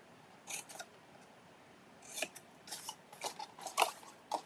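Quiet, crisp snips of scissors trimming paper for a gift card treat box, a pair of cuts early on and then a quicker run of snips near the end, with no talking.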